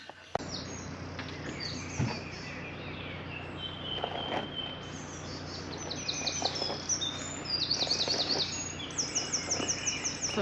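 Birds chirping and singing outdoors beside a canal, bright repeated calls scattered over a soft background hum, growing busier and more insistent toward the end, with faint footsteps and rustling nearby.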